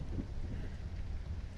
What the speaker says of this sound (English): It's a hell of a thunderstorm.